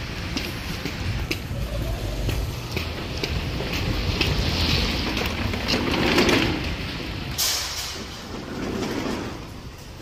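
Strong, cold wind roars and buffets outdoors in Regina, Saskatchewan, in steady gusts, rumbling against the microphone with broad rushing noise throughout.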